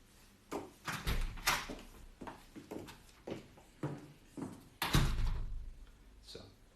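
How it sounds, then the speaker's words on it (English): An office door is handled in a series of knocks, thuds and rattles ending in a firm close, with a sharper slam near the end, heard alone without talking. "Please close the door on your way out."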